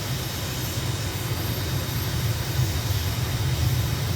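Aircraft engines at full throttle on a takeoff roll in Microsoft Flight Simulator give a dense, steady roar with a rumbling low end, loud and continuous throughout, with no speech.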